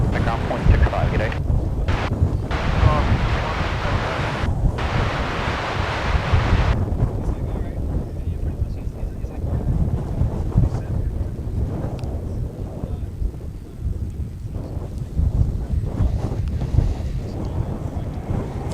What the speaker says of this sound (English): the wind is really whipping around now